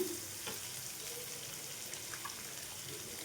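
Chopped capsicum and onions frying in a pan with salt, giving a soft, steady sizzle with a few faint stirring clicks, quiet and continuous with no talking.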